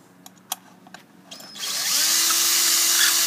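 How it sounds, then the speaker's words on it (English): A power drill used in building a homemade electric scooter, starting after a few light knocks and then whirring loudly and steadily for almost two seconds before stopping abruptly, close by. "You're ready to put the drill in."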